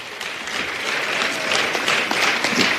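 Steady applause from an audience at an ANC meeting with artists, a dense wash of many hands clapping at once that keeps up evenly loud for the whole stretch.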